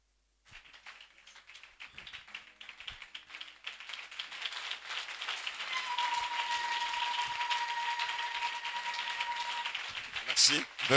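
A church congregation applauding during a service, the clapping rising from about half a second into a steady, dense crowd of claps with a sustained tone above it, then breaking off with a brief louder burst at the end.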